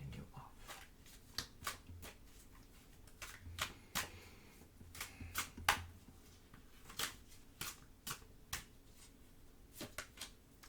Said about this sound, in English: So I'm gonna shuffle these cards